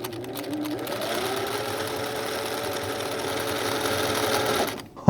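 A 1960s Singer sewing machine runs steadily with its stitch width raised for a wider zigzag, giving a continuous close mechanical whirr and rapid needle clatter for about five seconds before it stops abruptly.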